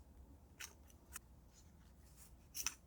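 Scissors snip through a scrap of craft paper in three short, quiet cuts, spaced apart over a faint background hiss, with the last cut slightly sharper.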